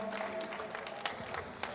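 An audience applauds a band in Piazza Manzoni, Jesolo, with a dense patter of clapping under a voice talking over it.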